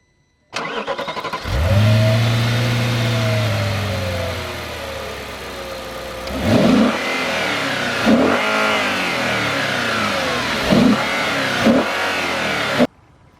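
A 2008 Audi RS4's 4.2-liter V8 starts with a loud flare, settles into a steady idle, then is revved sharply four times, each blip rising and falling back, heard up close.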